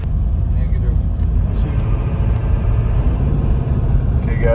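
A Ford 7.3 Powerstroke diesel engine with low power runs at full throttle around 2,000 RPM while driving, giving a loud, steady, heavy low rumble that holds the whole time with no pauses.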